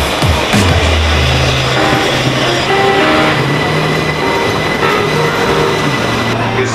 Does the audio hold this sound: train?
yes